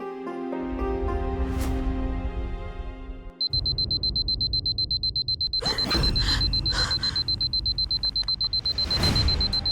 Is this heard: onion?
no